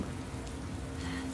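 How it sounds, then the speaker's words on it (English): Steady rain patters on a building outside in The Last of Us Part II, a soft, even wash of drops continuing throughout with no talking. "And then we're left with just the rain. The rain slowly jamming on the building outside."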